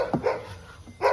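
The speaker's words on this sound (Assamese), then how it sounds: "কুকুৰে ভুকি আছে অকল" A single dog barks sharply up close, followed by a second bark a moment later, with faint background noise between.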